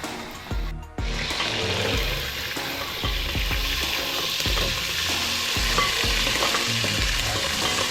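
Onion, garlic and tomato sizzle steadily in a hot pan with occasional stirring scrapes and clinks, loud and close throughout.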